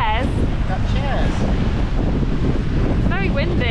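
Strong wind buffets an outdoor spot at the Krka waterfalls in Croatia, roaring steadily against the microphone while people talk over it.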